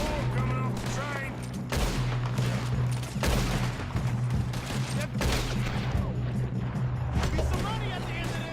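Gunfire rattles in Red Dead Redemption 2 during a shootout around a moving train: repeated sharp shots in irregular bursts over a rumbling background, with people talking and shouting throughout.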